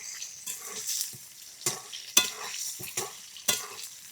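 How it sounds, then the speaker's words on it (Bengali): Duck eggs fry with turmeric in a hot pan, a steady soft sizzle broken by several sharp scrapes and stirring clicks, with no voices. "এই যে সামান্য একটুখানি হলুদ গুঁড়ো দিয়ে ডিমটা সুন্দর করে ভেজে তুলে নিই"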